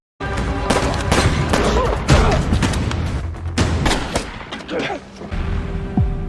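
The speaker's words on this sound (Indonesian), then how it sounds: "Di tengah baku tembak, Baudry terkena tembakan di bagian dada" Gunfire from a shootout in the action film Hunting Season: dense, loud bursts of rapid shots and booming impacts, almost continuous throughout, with film score and effects layered underneath.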